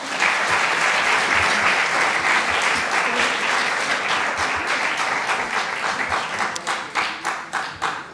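A lecture audience applauds steadily to welcome Dr. Daniel Gordis, a dense, even wash of clapping that thins toward the end into separate claps.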